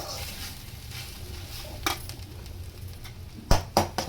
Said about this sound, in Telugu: ఇది మొత్తం పచ్చి వాసన వెళ్ళిపోవాలండి, పోయే వరకు ఇలా కలుపుతూనే ఉండాలి, లేకుంటే అడుగంటుతుంది బెల్లం అంతా.